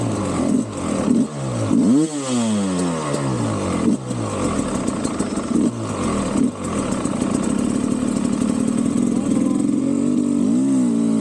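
An enduro dirt bike revs hard in second gear on a dry, dusty hard enduro trail, its engine rising and falling in repeated sharp swells and bursts close by, settling into a steady high-pitched drone.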